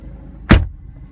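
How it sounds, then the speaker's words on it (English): A 2014–2015 BMW 328d wagon door swings shut with a single solid thump midway through, loud and close, followed by a quiet cabin hum. "I'm going to close this door."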